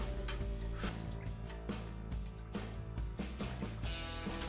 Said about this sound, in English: now it's time to add the half teaspoon of rennet, which has been diluted in a quarter cup of unchlorinated water